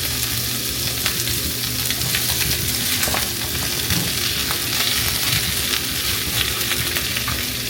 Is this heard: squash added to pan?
yes